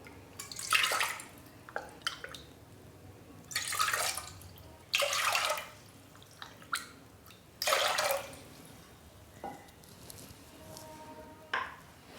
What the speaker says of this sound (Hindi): इसी कप से हम इसमें डालेंगे 4 कप पानी